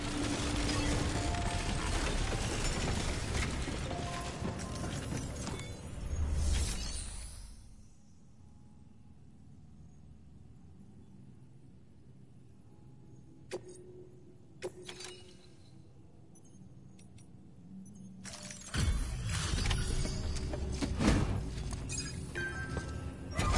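Suit decontamination machinery in Death Stranding: loud mechanical whirring and clanking at the start, then a long quiet stretch with scattered clicks and hisses before the machinery surges back near the end.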